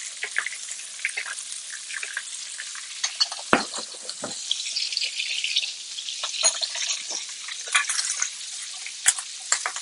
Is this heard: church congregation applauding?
no